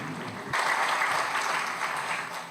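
Applause welcoming a speaker at a meditation event, a short burst of many hands clapping that swells abruptly and holds steady at moderate loudness.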